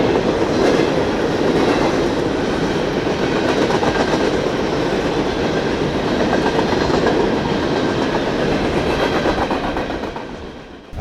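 A train rolls past nearby, its loud continuous rumble and rhythmic clatter of wheels on rails filling several seconds before fading away at the end.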